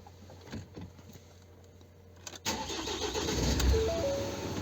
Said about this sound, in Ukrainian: Так, машинка запустилась.